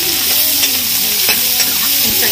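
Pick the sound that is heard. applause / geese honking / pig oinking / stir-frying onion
stir-frying onion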